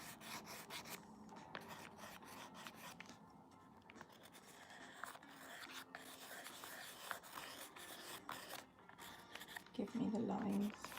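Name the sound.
pencil drawing on paper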